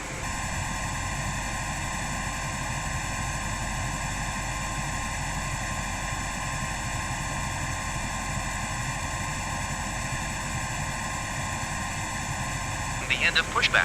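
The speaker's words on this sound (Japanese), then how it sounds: "パーキングブレーキをリリースしてプッシュバックします。" An ATR42 being pushed back in Microsoft Flight Simulator 2022 hums with a steady engine or auxiliary power drone and tonal whine, constant and close, with a brief clatter at the very end.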